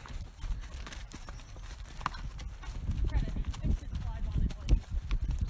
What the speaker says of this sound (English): My sister's on her horse.